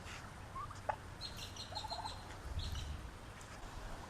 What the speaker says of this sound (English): These are some of our turkeys.